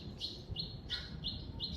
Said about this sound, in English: we got that bird back again